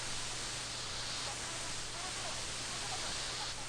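Steady radio static hisses without a break in the visual novel Future Radio and the Artificial Pigeons, a dense, even wash of noise at moderate level with only slight shifts in texture.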